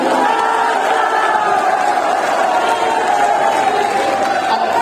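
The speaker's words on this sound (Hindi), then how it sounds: "शमशेर सिंह जी के लिए एक बार जोरदार तालियां" A large crowd at an outdoor Hindu rally roars and cheers continuously, a loud, dense wash of many voices with shouting, sustained without pause.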